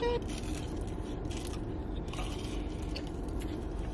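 Close, loud crunching and chewing of crispy Taco Bell chicken wings, with a dense, continuous crackle through the whole stretch and no talking.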